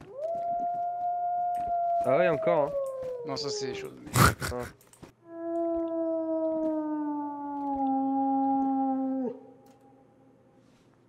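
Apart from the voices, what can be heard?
wolf howling in DayZ video game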